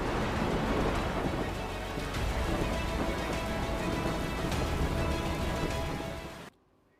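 Heavy downpour in Keshod town, Junagadh, Gujarat, during a storm that dropped about 11.5 inches of rain: a dense, steady roar of rain with a possible rumble of thunder, loud and continuous until it cuts off abruptly near the end.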